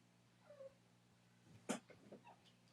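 A house cat gives a soft, faint meow, a short quiet call heard alone in a hushed indoor room with low background hum.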